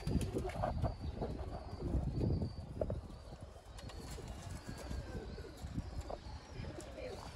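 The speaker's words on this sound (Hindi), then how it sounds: "ये देखें जी, प्योर तरीन हालत के अली वाले कबूतर" Sialkoti Ali wala pigeons coo steadily throughout, soft murmuring calls layered over a busy loft with faint chirps and occasional wing rustles.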